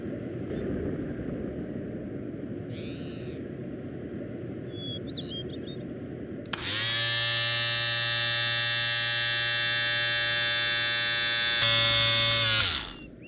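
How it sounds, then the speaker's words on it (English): Electric shaver buzzing as it shaves a head in Garry's Mod, starting abruptly after a stretch of quiet background noise with a few faint squeaks, then running as a steady loud whine for several seconds before cutting off. "One day, Bruno got hair lice, so he needed to shave his head."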